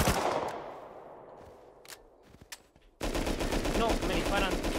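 Gunfire in the online survival game Rust: a few sharp shots and short bursts ring out in the first three seconds. A dense, loud layer of battle noise and game ambience then takes over.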